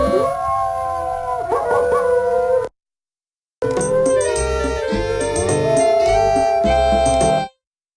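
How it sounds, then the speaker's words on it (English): A wolf howls in the video game Quest for Glory IV, two long wavering howls with shifting pitch, loud and close, separated by a brief silence and cutting off sharply at the end. "You swear the wolf growls out something that resembles fortune teller."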